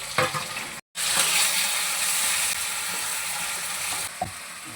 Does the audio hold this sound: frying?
yes